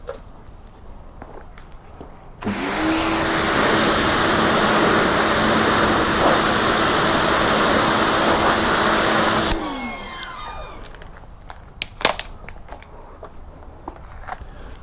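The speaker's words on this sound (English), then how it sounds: "Now I'm going to go ahead and rinse this so that I'm not contaminating to the Gyeon side." Close, loud hose spray rinsing a car tyre, a broad steady hiss that starts abruptly and runs about seven seconds before cutting off, followed by quieter clatter and a few sharp knocks with no talk.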